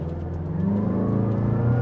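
A 2025 Mazda CX-5 Turbo Premium SUV with a six-speed automatic pulls away at half throttle, its turbo engine droning steadily and rising slightly in pitch. The sound is close and continuous, with no talking.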